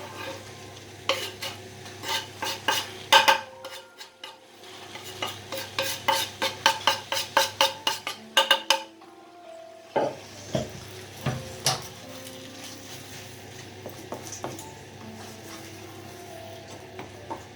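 Cheese is stirred into kuymak, a Turkish cornmeal dish, in a frying pan, giving bursts of utensil scraping and clinking over a soft sizzle, with a short pause midway and no talking.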